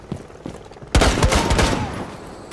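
Rapid gunfire from a gun in Rainbow Six Siege during a Bank Terrorist Hunt: a loud, sustained burst of close shots that begins abruptly after a quiet lead-in and then trails off.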